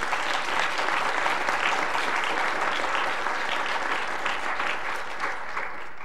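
A conference audience applauds at a science meeting, a steady, dense wash of clapping from many hands that holds evenly for several seconds before easing slightly at the end.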